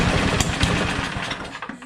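John Deere 726 snowblower engine with a suspected fuel problem firing up and chugging in rapid, uneven pulses, loud and close, then faltering and sputtering as it dies down.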